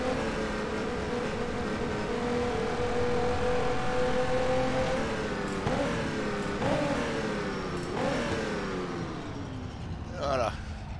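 A Ferrari 512 S racing car in the rFactor 2 simulator runs at full throttle, its engine holding a loud, sustained high-revving howl with a few brief dips and surges as it shifts, with a voice talking over it throughout.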